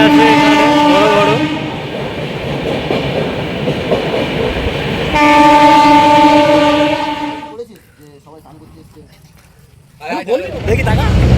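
Train at Santragachi station, with a loud, sustained horn blast that stops and then sounds again, over rumbling wheels. The horn cuts off, leaving quieter rail noise, and voices talk near the end.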